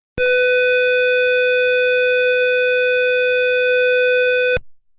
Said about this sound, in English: I'm pressing a buzzer, and you'll be able to hear the buzzer sound